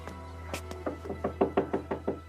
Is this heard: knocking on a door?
yes